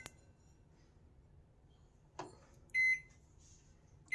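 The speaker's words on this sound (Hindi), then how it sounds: "ओवन में मैंने केक रख दिया है, तो अब मैं इसका टाइम सेट करूँगी" A microwave oven keypad, set as the timer for baking a cake, gives a single clear electronic beep after a soft click, with other light taps and a quiet background.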